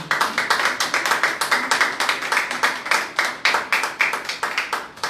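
A church congregation claps in a steady rhythmic beat, strong even handclaps repeating quickly and evenly for several seconds with no talking.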